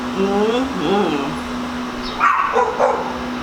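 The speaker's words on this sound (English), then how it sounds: "excuse the dogs" Dogs bark and yip nearby in short bursts while a person talks over them, with a steady tonal hum underneath.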